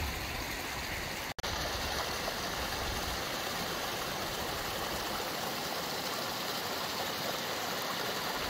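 Steady broadband rush of a mountain waterfall in the Deseret Peak Wilderness, continuous and fairly loud, with a brief dropout early on.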